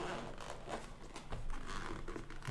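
Zip on a Geekvape 521 Master kit case being pulled open, a soft continuous close-up rasp lasting a couple of seconds, with no talk over it.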